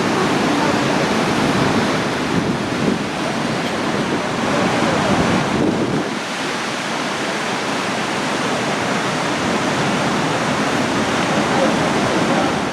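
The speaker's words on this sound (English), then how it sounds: "The water gently goes on downstream, but you can see even here how it swirls around and slowly carves the limestone" Glacial meltwater rushing and swirling downstream over carved limestone along the Columbia Icefield to Jasper route, a steady, loud broadband roar close by, briefly dipping midway, with no clear speech.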